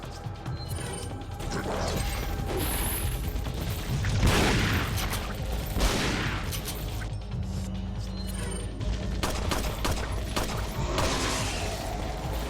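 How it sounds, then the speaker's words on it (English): Loud, repeated shotgun blasts in the video game Resident Evil 4, heavy booming shots and crashes layered over busy game noise and mechanical clatter, with no talking. "Shotgun."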